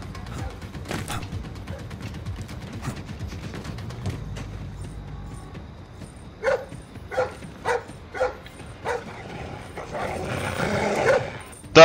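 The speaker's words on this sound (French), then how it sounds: "Ce chien là, il me mine le moral." A guard dog in Splinter Cell Blacklist barking and growling close by, a series of sharp, evenly spaced barks rising in loudness, with low growls between and background game ambience.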